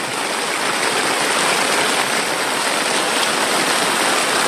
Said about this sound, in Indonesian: Ini hujan deras banget.